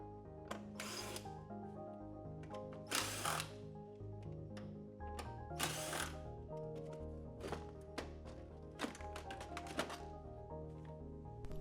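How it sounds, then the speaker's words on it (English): Close, quiet ratcheting clicks and bursts of a spinning socket come from a 7mm socket removing screws from a vehicle's tunnel cover. Faint metallic knocks fall between irregular runs of rapid clicks over a low hum. "Use the 7mm socket again to remove the 4 screws that hold the main tunnel cover"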